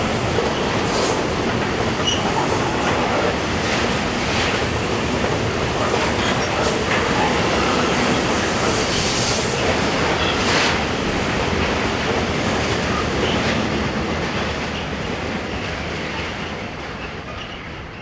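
A loaded tank train hauled by Rhine Cargo Class 185 locomotives in Western Europe rolls past, a dense continuous rumble with rhythmic wheel clatter, loud and close before fading gradually at the end.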